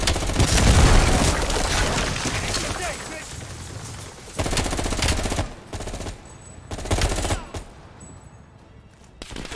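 Close, heavy booms and gunfire bursts in Call of Duty: Black Ops Cold War: one large blast at the start, then several sharp detonations spaced a few seconds apart, with voices talking between them.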